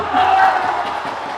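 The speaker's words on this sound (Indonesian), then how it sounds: "Tepuk tangan untuk Ketua Kabilah" A crowd cheers and applauds at the champion announcement of the 34th anniversary celebration of Dayah Ummul Ayman, an Islamic boarding school, producing a steady, loud wash of massed noise with no single voice standing out.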